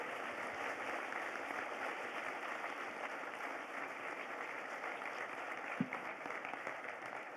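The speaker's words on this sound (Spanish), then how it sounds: "Muy bien, le damos un aplauso al maestro Octavio Mondragón." An audience at a Catholic theological biennial gathering applauds for maestro Octavio Mondragón: a steady, even wash of clapping that holds at moderate volume throughout, heard from some distance, with no voices over it.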